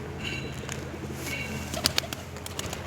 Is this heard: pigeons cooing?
yes